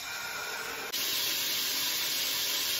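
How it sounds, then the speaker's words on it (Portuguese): Loud, steady sizzling hiss of pork loin searing in olive oil in a pressure cooker, jumping sharply louder partway through and continuing without pause. "coloquei um pouquinho de azeite na panela de pressão e agora eu vou selar esse lombo"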